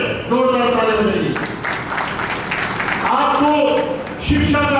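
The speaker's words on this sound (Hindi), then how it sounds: "जोरदार ताली बजेगी।" Audience at an Ambedkar Jayanti community gathering breaks into a burst of clapping that carries through a few seconds, with a voice speaking over and around it.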